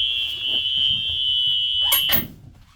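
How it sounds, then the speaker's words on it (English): A school bus door buzzer sounds during a pretrip inspection, a steady high-pitched electronic tone holding for about two seconds before a brief clatter of the door moving, then cutting off. "I can open the door. I can hear the buzzer."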